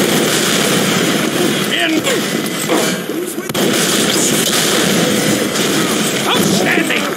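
Gunfire and explosions from the Team Fortress 2 shooter game on the 2Fort map as a Soldier, dense and continuous for the whole stretch, with a voice shouting over the din.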